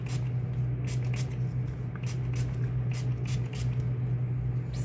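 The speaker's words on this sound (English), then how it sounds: "I'm just gonna spritz it." A spray bottle spritzes distilled water and rubbing alcohol onto a Louis Vuitton canvas wallet, giving a run of short, sharp hissing bursts at an uneven pace, close up over a steady low hum.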